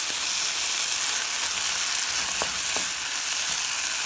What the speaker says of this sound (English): So you can see the onion starting to fry up nicely.